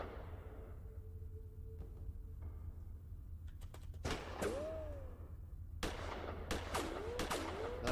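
Gunfire in the Gemini Rue adventure game: several sharp, loud shots cracking out in short bursts over a steady low hum, with brief whooshing sweeps between them.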